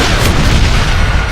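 A dynamite blast in the Western shooter Call of Juarez Gunslinger: one loud, dense, broadband boom with a heavy low rumble that sustains throughout without a break.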